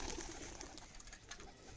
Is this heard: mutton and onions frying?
no